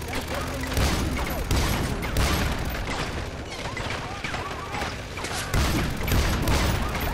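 Dense, continuous gunfire with sniper rifle shots in a Far Cry 4 firefight, loud and close, with rapid overlapping bursts that barely let up.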